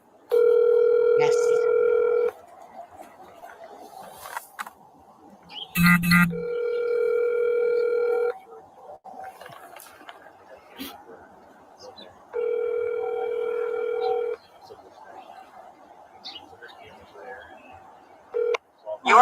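An outgoing phone call ringing unanswered: a repeating electronic ringback tone comes in bursts of about two seconds, separated by longer pauses filled with faint background noise and murmuring voices.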